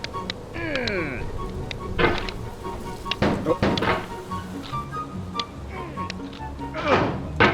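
A hammer in the climbing game Getting Over It gives a series of sharp, dull thunks and knocks at irregular intervals, with talking heard around them.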